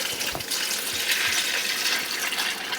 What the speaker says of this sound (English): We're going to go in with hot water.